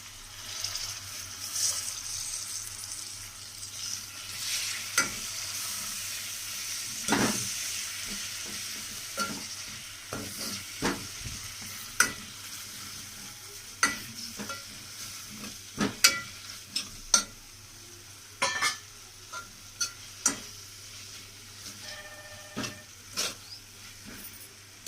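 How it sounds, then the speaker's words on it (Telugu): Gongura leaves sizzle and fry in oil in a pan for gongura boti, with steady hiss under repeated scraping stirs of a spoon, the clicks and scrapes growing sharper and more frequent toward the end. "అందులోకి ఒక కట్ట వరకు మనము కడిగి పెట్టుకున్న గోంగూరను యాడ్ చేసుకోవాలి."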